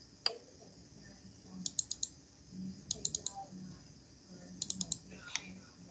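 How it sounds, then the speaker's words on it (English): Small computer mouse clicks in quick clusters of three or four, sparse and fairly close against a quiet room background, with long gaps between bursts. "I'll click this."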